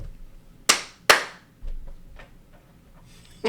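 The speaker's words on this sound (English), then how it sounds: "we had to do that clap, kind of like, a marker in movies where they have that black and white little marker" Two sharp, loud hand claps about half a second apart serve as a sync marker before recording resumes, followed by a few softer knocks and thumps in an otherwise quiet room.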